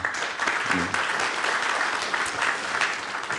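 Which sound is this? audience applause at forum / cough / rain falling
audience applause at forum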